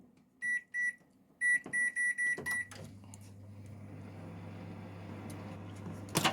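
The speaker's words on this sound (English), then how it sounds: "we're going to microwave a package of rice here" A microwave oven heating a package of rice: a run of short beeps from the keypad, then a soft click as it starts and a steady low hum of the running oven, with a faint knock near the end.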